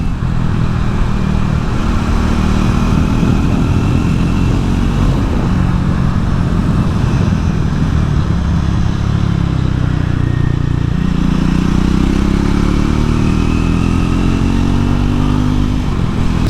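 A Triumph Scrambler 400X motorcycle rides along tarmac in fifth gear, a loud, continuous engine drone with steady revs that shift slightly under wind noise.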